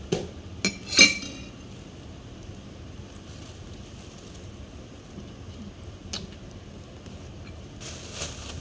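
Spoons and forks clinking against a plate during a meal of fried rice, a few sharp close clinks near the start and a couple more later, over a faint busy background.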